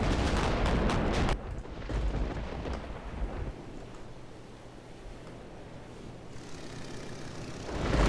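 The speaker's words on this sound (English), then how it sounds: "I'll go ahead and fire some shells at this class cruiser" A heavy naval gun salvo fires shells at a cruiser in Victory At Sea Pacific, opening with a loud booming blast that fades into a rumbling, sea-like wash and distant thunderous rolls.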